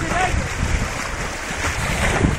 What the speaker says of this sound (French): ces vagues sont souvent mortelles contre ces rochers de ce type